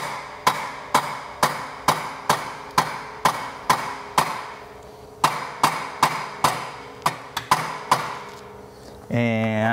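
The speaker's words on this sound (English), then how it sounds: "So carefully tap the header back into place." Hammer tapping the exhaust header of a 1978 Vespa P200E scooter engine back into place during a rebuild: about twenty sharp metallic taps in a steady close rhythm, a few quicker double hits near the end, then a brief voice.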